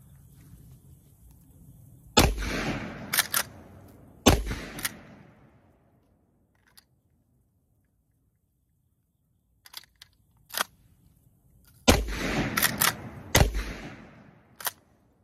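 Loud gunshots from cowboy shotguns, a Winchester-style 1887 lever action and a double barrel coach gun, fired outdoors: three sharp blasts with echoing tails, a pause with faint clicks of reloading, then more blasts close together.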